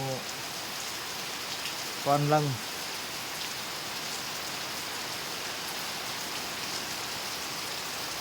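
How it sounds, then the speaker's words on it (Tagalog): Rain falls steadily at night in a continuous, even patter, with a brief voice speaking early on. "Moboylo ra ang ulan og kalit, daw muhunong."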